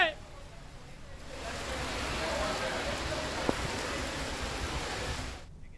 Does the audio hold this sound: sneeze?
no